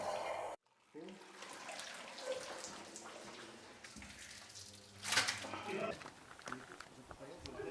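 Whey draining from cottage cheese strained through an aluminium sieve, a soft trickling and splashing of liquid running on beneath steady talking.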